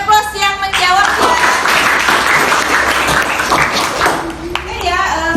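Classroom applause for students who answered a civics lesson question: steady, moderately loud clapping from a group lasting several seconds, with a teacher talking over its start and end.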